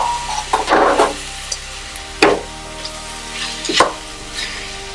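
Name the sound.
mushrooms dropped into a pan and frying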